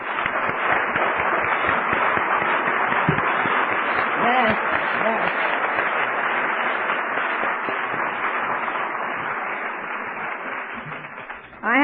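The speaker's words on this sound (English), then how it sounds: "How about let's give them a round of applause?" A crowd gives a sustained round of applause for a convention committee at an AA gathering, dense clapping that holds steady for several seconds, with a voice briefly heard over it.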